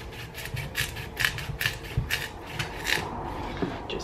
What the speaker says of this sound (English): Just keep sawing.